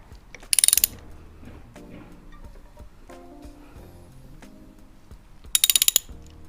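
A ratchet wrench turns the engine of a Yamaha V Star 1100 motorcycle slowly clockwise during a valve adjustment, giving two short bursts of rapid clicking several seconds apart, close up, with faint metallic handling between them.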